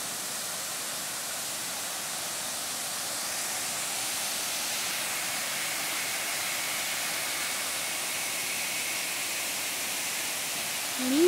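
Steady, broad rushing roar of a waterfall heard up close in the countryside near Bananal, São Paulo, a constant hiss that holds level throughout with no talk over it.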